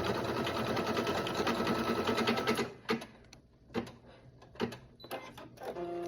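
An embroidery sewing machine stitches a gold tree design on a red dinner napkin with a loud, steady, rapid mechanical whir. It then stops abruptly, leaving a few scattered clicks and clunks.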